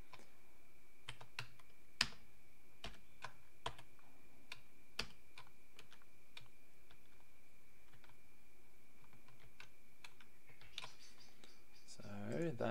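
Someone types a password on a computer keyboard while installing Microsoft Teams on Linux; sparse, separate key clicks come close and quiet in a hushed room, and a brief rustle follows near the end.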